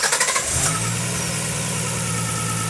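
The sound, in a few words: GT-R engine in a 240Z starting on the dyno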